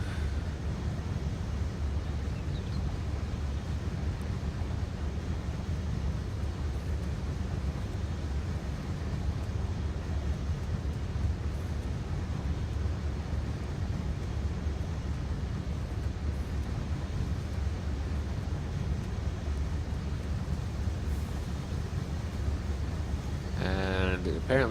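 A vehicle engine in the online game ArcheAge runs with a steady, loud low rumble close up, continuous throughout with some windy broadband noise on top.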